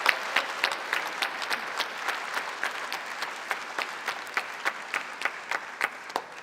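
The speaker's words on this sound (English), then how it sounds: "can we have a special round of applause, please, for Izzy and the scrutineers" An audience at a Labour Party conference applauds in a sustained, even round, with dense clapping and a few sharper claps standing out in a steady rhythm, fairly distant in a large hall.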